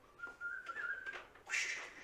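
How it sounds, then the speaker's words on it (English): A video game character whistles a short rising tune, thin and close, ending in a brighter burst, with no talk over it. "kind of like whistling a little bit."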